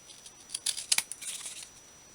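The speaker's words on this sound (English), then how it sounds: "I'm going to trim the bottom off" Scissors trim the bottom edge off folded paper ephemera for a craft journal, giving a few quick close snips and soft paper rustles in a brief burst.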